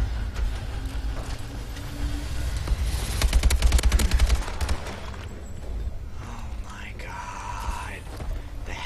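Rapid automatic gunfire from Call of Duty Advanced Warfare rattles in a dense burst mid-clip, with other game sounds and some talk around it.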